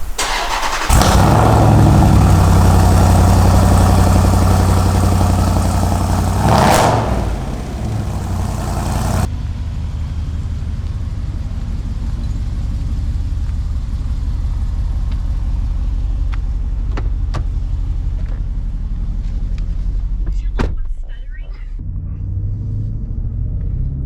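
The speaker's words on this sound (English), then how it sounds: "I'm just gonna let the Hemi sing" Jeep SRT with a Hemi V8 on a night drive through Brooklyn: a loud, deep engine roar dominates the first nine seconds, then settles into a steadier, quieter rumble of cruising with faint clicks.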